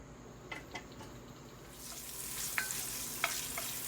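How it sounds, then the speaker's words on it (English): Bacon tossed into a pot on a stove for collard greens: a few light clinks at first, then a hiss of frying swells up and continues with occasional spatula taps, close and fairly quiet. "I'm going to go ahead and throw this bacon in."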